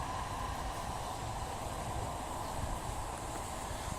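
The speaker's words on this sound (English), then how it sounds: "as another tram passes there." A tram rolls past on a city street, a steady broad rumble with a low grinding undertone that holds evenly throughout, fairly close and without any voices over it.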